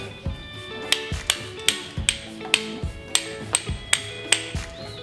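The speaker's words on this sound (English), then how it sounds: "I'm gonna grab my hammer, and then just nice light even taps." A series of about ten sharp, light hammer taps on a climbing bolt, evenly paced with brief ringing after each strike, close and fairly loud.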